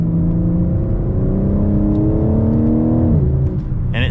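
BMW M4 Competition coupe with the exhaust valve open, engine revving through a sustained, loud rising note before a shift drop, heard up close with no talk.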